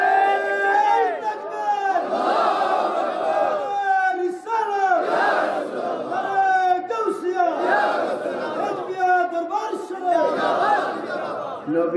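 A large crowd at a religious gathering chanting slogans in loud, rhythmic waves of many voices, sustained and continuous with repeated call-like phrases.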